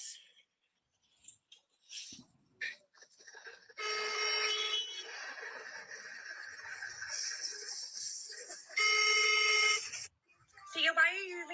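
A played-back screen recording of a phone call ringing, sounding muffled and steady through the middle of the stretch, with voices talking around and over it.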